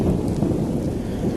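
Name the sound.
thunder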